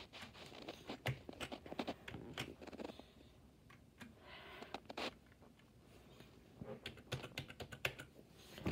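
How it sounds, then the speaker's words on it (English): Fast, continuous typing on a Logitech Deluxe 250 USB keyboard, close-up clacking keystrokes in irregular bursts with a brief lull midway, no speech. "Very comfortable to type on keyboard."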